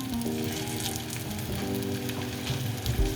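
Taco shells frying two at a time in a skillet of hot oil, with a steady, bright sizzle and bubbling throughout.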